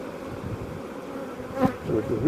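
A large honey bee colony hums with a dense, close buzz during a hive inspection, with a few louder passes of individual bees near the end; nobody speaks.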